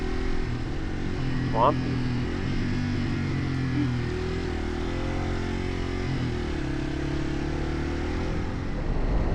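A Yamaha TW200 dirt bike riding along a trail, its engine droning steadily and close throughout with small rises and dips in pitch, while the rider speaks briefly over it.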